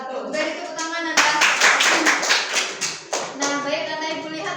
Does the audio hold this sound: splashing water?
no